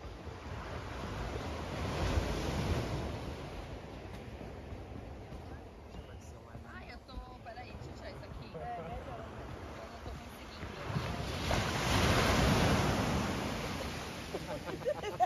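Surf washing onto the sand at Praia da Daniela beach in Florianópolis in late winter, a steady rolling wash that swells louder around two points, with wind buffeting the microphone throughout.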